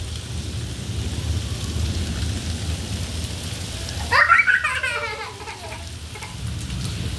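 Heavy rain falling steadily on surfaces, a dense continuous hiss throughout, with a brief higher-pitched sound rising over it partway through.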